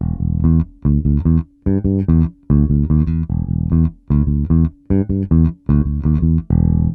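Electric guitar loops the first bar of a funk riff slowly, about eight clipped groups of short plucked notes including a chromatic step, evenly spaced, close and unaccompanied.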